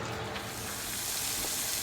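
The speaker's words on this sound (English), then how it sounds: "Now I'm about to put these shrimp on the grill real quick." Shrimp sizzle on a grill with a steady, dense hiss that swells slightly, heard close up and with no talking.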